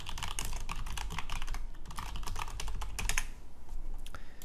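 Rapid clattering keystrokes on a computer keyboard while logging in, close and continuous for several seconds, with a brief pause near the end and no speech.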